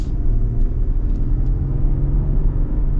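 A 2025 Toyota Tundra SR5 with the 3.4 engine pulling smoothly, a low steady rumble of the engine and road noise from inside the cab with light ticking above it.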